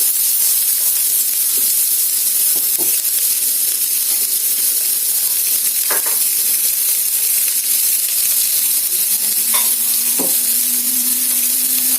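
Radish pieces frying in a little oil in a pan give a steady, loud sizzling hiss, with a few brief clinks and scrapes on top and no one talking.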